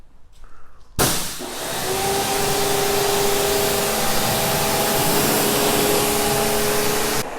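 Strong, steady hiss of a water spray rinsing the wheels of a 2020 BMW X6 before ceramic coating, starting abruptly after a second of quiet and continuing loud and close throughout, with no talk.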